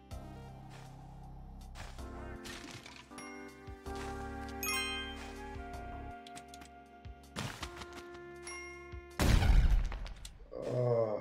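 Steam notification chimes ringing repeatedly during a Spelunky session, a series of bright, tinkling dings at low volume with a brief louder burst near the end.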